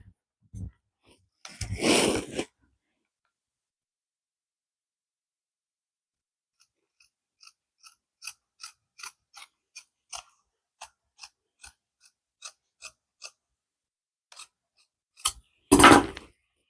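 Scissors cut along sewn fabric close to the stitches while sewing a satchel bag, heard as a loud burst of snipping, then a run of about a dozen short, evenly spaced clicks, and another loud snip at the end.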